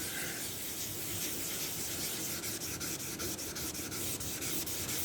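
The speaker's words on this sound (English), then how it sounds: "I'm going to have to pull back a little bit now and rub up to the edge so that I don't rub through it" A hand rubs down primer on a Honda ST 1100 body panel, producing a steady, close, dry abrasive hiss with faint rhythmic strokes toward the end, no voices.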